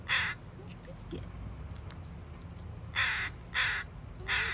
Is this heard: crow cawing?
yes